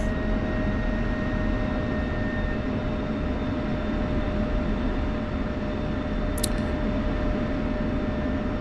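An F-16 jet taxis in the DCS World video game, a steady low engine rumble and whine droning evenly throughout at moderate volume, with a brief high chirp near the end.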